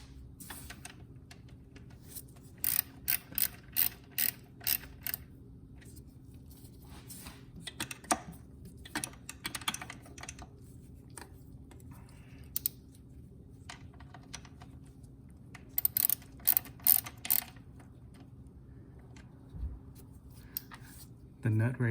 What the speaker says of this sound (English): Get my ratchet here in a moment so I can tighten this up.